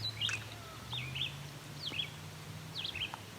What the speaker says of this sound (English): Several gulls going over.